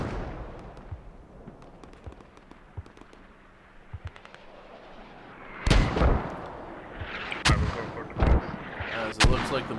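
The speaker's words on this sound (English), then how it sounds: "It's very effective OB mortars right now taking down this fob." Mortar rounds landing in the video game Squad, a series of sharp booms and cracks, scattered and distant at first, then heavier impacts arriving in clusters of loud, near blasts with rumbling tails; a faint voice occasionally underneath.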